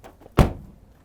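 A door inside an abandoned airplane interior is pushed open with a single solid thunk and brief rattle, close by and otherwise quiet.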